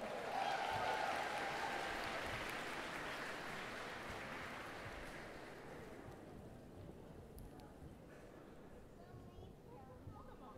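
Audience applause at a cosplay contest on a convention main stage, a broad wash of clapping that starts loud and gradually thins and fades over about ten seconds.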